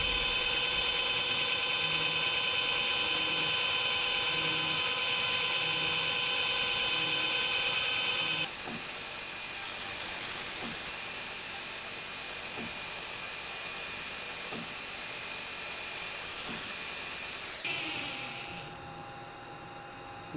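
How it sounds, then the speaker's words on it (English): Steady high-pitched whine of a 2x72 belt grinder deburring metal, a machined T60 Torx bit, with faint periodic ticks from contact with the belt, continuous and fairly loud before winding down near the end. "let's do a little bit of deburring on the 2x72 belt grinder"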